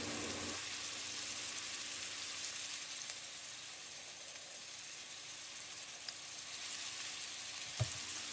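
Garlic paste sizzles in a pan of chicken for a stew, a steady, fairly quiet frying hiss running unbroken throughout, with a couple of faint clinks.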